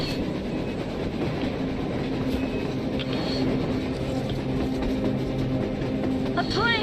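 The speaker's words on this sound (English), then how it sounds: "A damn train on the surface!" A train moving on the surface in the video game Metro Exodus, a loud continuous rumble and rolling clatter of rail cars with a high screech near the end.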